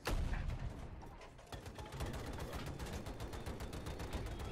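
Tank cannon fire in the Battlefield 2042 video game on the Haven map: a loud, booming blast opens the clip and gives way to a dense rattle of rapid gunfire and explosions that carries on to the end.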